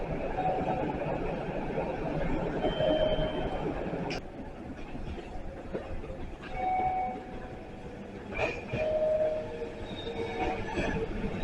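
Meitetsu 9100 series two-car set coupled to a 3500 series four-car set, running as a semi-express on the Tokoname Line, pulls into platform 3 at Jingu-mae station: steady rumble of wheels and motors with faint squeals, a few sharp clanks over rail joints.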